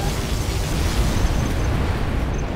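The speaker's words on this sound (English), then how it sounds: "General, a Scud storm has been launched." Dense, continuous rumbling explosions from a Scud missile storm in the video game Command & Conquer: Generals fill the whole stretch, heavy low booms blending into a steady roar with no pauses.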